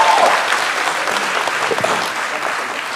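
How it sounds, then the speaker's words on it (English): An audience at an office IPO celebration applauds steadily, a dense, close wash of clapping that stays level throughout. "I know there are many of you cheering"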